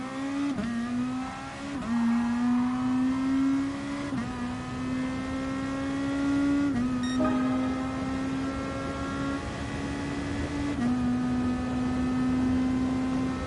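Race car engine in Gran Turismo Sport, loud and continuous, its pitch climbing and then stepping down sharply at several gear changes, with a brief squeal partway through.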